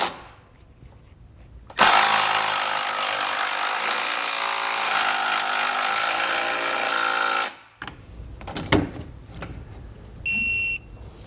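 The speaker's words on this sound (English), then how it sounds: "Now we can go ahead, tighten, and torque the nuts and bolts" A power tool whines loudly and steadily for about six seconds while tightening the nuts and bolts of a Blue Ox base plate on a 2018 Ford Edge, followed by a few short clanks and a brief tool burst.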